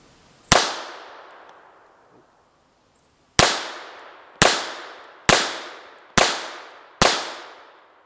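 Six sharp, loud pistol shots from a Japanese Type 94 firing handloaded ammunition, outdoors, each with a ringing decaying tail; one shot, a long pause, then five in a fairly steady cadence about a second apart.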